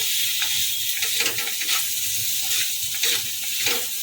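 Bitter gourd and eggplant fry loudly in a pan with a constant bright sizzle, while a spatula stirs them in repeated scraping strokes, close and alone.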